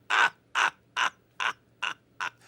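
A crow caws six times in a slow, even rhythm, each call harsh and clear, fading slightly in loudness toward the end, with no voices.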